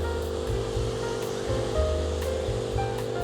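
Ocean waves wash onto a sunbathing beach beside the Church of Santa Cristo in Gallipoli, Italy, rolling in steady low surges every second or so, soft and continuous, with no voices.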